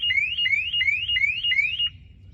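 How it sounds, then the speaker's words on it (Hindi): A 2022 Maruti Suzuki Brezza security alarm siren warbles in repeated rising sweeps, about five cycles, fairly loud and close, then cuts off leaving a low hum. "अब जैसे ये बजर बज गया"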